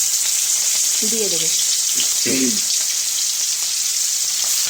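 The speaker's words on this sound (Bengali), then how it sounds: "চিংড়ি মাছগুলো আগে ভালো করে ভেজে নেব।" Prawns frying in hot oil in a wok: a loud, steady, hissing sizzle that fills the whole clip, with someone speaking briefly over it.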